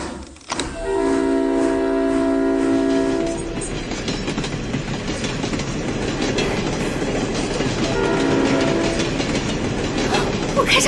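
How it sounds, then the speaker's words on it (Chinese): A steam train runs on rails with a continuous heavy rumble and clatter, its whistle sounding loudly at the start and again near the end. "我真的开上火车了！"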